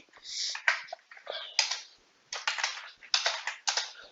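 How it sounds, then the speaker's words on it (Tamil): A computer keyboard rattles under close, crisp keystrokes, clicks sounding singly and in short bursts with brief pauses, as a Ctrl+V paste shortcut is pressed in Excel. "ஸோ இங்கே Ctrl+V கீபோர்ட் ஷார்ட்கட்டில் Ctrl+V."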